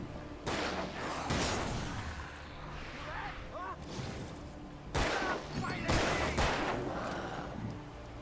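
Gunfire in the Alan Wake video game: several loud, sharp shots in irregular bursts, close and reverberant, with a voice speaking between them.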